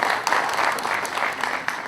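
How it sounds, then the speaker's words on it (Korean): Audience applauding at a Korean fruit-industry panel discussion, a steady wash of many hands clapping that holds fairly evenly for about two seconds without any speech. "박수 좀 부탁드리겠습니다."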